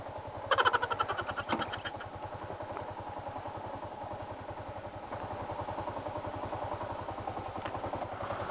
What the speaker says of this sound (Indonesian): mag-drive ng manual na motorcycle na motor kagaya ng Sniper 150